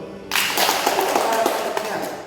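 An audience at an indoor talk on customer complaints breaks into applause, a dense burst of many hands clapping that starts suddenly and holds steady for about two seconds.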